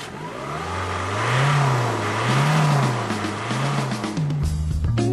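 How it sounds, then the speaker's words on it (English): A Ford Mondeo TDCi diesel car engine revs in steady rising and falling waves, close and loud, then settles into a lower, rougher note near the end, with no one speaking. "This is one of Britain's best-selling diesels, the Ford Mondeo TDCi."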